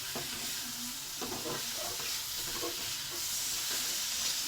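Spices with turmeric frying in a pan, with a steady soft sizzle and hiss throughout and a few faint scrapes of stirring, close and fairly quiet.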